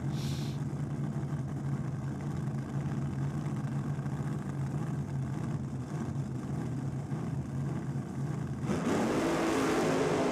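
Loud, continuous engine roar from drag racing cars at Sydney Dragway during a NSW Championship round, a steady droning rumble for most of the stretch that shifts into a brighter, rising burst near the end.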